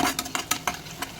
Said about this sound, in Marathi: त्यानंतर आपण लाल मिरची पावडर आणि त्यानुसार गरम मसाला हे मस्त परतून घेऊया।